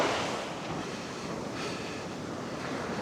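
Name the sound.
wind blowing on a beach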